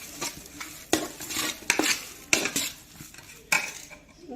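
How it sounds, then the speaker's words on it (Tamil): Cooked rice being stirred and broken up in a pot for curd rice, with a series of sharp metallic spoon scrapes and clinks against the vessel, close and fairly loud, recurring irregularly every second or so. "நல்லா சாதத்தை உடச்சி விட்டுக்குவோம்."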